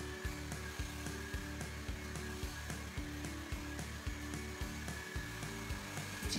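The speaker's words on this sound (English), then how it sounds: "She is lifting the hair up, brushing the hair up as she blows it dry." A hair dryer roars steadily at close range while hair is lifted and brushed upward with a large round brush during a volumizing blowout, its drone pulsing with faint regular thumps of brushing.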